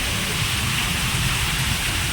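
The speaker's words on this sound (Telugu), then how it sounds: "చూసారు కదా ఫుల్ వర్షం అండి" Heavy rain pours down over a village in a windstorm, a steady dense hiss of falling water that stays constant and loud throughout with no pauses and no voices.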